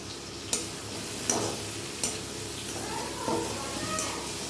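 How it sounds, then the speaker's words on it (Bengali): Bhetki fish frying in a pan, a steady soft sizzle with a few sharp clicks and clatters from a utensil at intervals, close by and fairly quiet. "দেখো এখানে ভেটকি মাছ ভাজা হচ্ছে"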